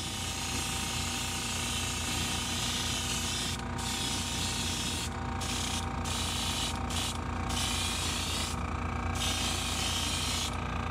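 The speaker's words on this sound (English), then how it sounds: "Again, just spraying even coats." Pearl silver paint, thinned down, sprayed in even coats from an airbrush onto a crankbait shad lure, a steady close hiss running the whole time with a few brief breaks between passes.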